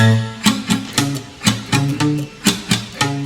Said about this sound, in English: I put the heel of the palm here to give the bass a more muffled sound,